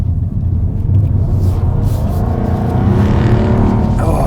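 A Jaguar F-Type Coupé P450 engine rumbles loud and close from inside the moving car, a deep continuous growl that swells slightly as it keeps pulling.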